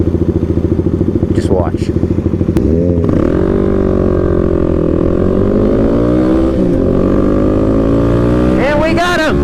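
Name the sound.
Kawasaki KLX300 motorcycle accelerating racing a Gixxer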